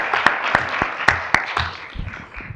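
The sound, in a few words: round of applause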